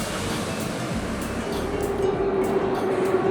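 A metro train at a station in Uzbekistan, a steady loud rumble of the carriages with a rising tonal whine from the motors, continuous throughout with no voices.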